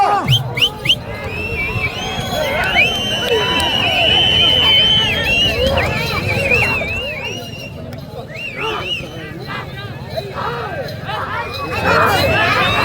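A large outdoor crowd at a six-tooth bullock cart pulling contest shouts and yells loudly and continuously, a dense babble of voices with whistles and cries rising and falling across the whole stretch, with a commentator's voice mixed in.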